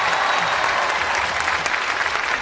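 A studio audience at a comedy talk show claps loudly and continuously for a singer on stage, a dense, even wash of applause with no voices standing out.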